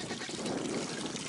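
Water pours and trickles steadily for pigs outdoors in the cold, a short close splashing stream with faint voices underneath.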